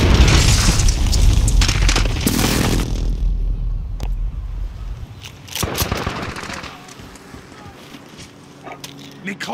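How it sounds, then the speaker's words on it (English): Heavy airstrike blasts rumble through Call of Duty Modern Warfare multiplayer, a dense run of loud booms and crackling gunfire for several seconds, then a quieter lull broken by further thuds and distant shots. "Enemy precision airstrike. Take cover."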